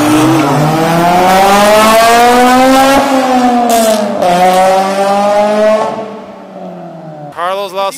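Street-racing cars, including a Honda hatchback, rev their engines loudly and roar close by, the pitch climbing and dropping through gear changes. There is a brief tire squeal, and people talk and shout near the end.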